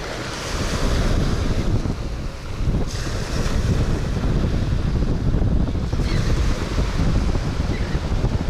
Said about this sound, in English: That wind is getting crazy, y'all. The wind gusts. It's starting to blow.